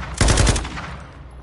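A short, loud rapid burst of automatic gunfire in Call of Duty Warzone, a few quick shots close together that fade into a brief decaying tail.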